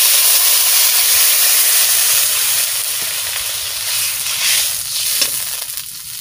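Water poured into a hot pan of potatoes and garlic sets off a loud, steady steam hiss and sizzle that fills the whole stretch close up, easing slightly toward the end.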